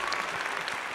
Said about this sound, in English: Do another round of applause here for you guys.